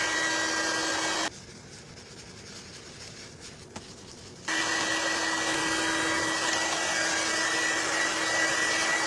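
Hair dryer drying paint on a craft tray, a loud steady blowing roar that cuts off for about three seconds and then resumes continuously, close by.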